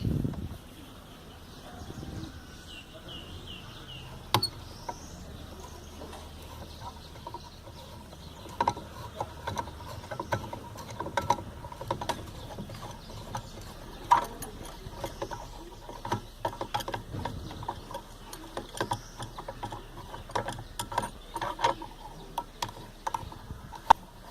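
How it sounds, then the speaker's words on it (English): Wing bolts being loosened in turn on a Futurepump SF2 pump, giving scattered metallic clicks and ratchet-like ticks at close range over quiet outdoor background noise. "Loosen the wing bolts in a diagonal fashion."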